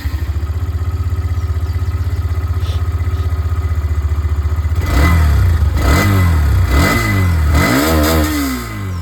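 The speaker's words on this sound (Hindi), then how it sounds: "इसकी जो एग्जॉस्ट साउंड है वो मैं आप लोग को यहाँ पर सुनाना चाहूँगा" A Hero Xtreme 125R motorcycle engine idles close by with a steady, pulsing exhaust note, then is revved in several sharp blips that rise and fall before it settles again; no one speaks.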